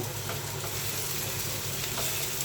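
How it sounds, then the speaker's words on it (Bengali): Onions fry in hot oil with a steady, even sizzle and faint stirring, close up, with no one talking. "তার জন্য পেঁয়াজ নিয়ে তেলের উপর ভাজতেছি"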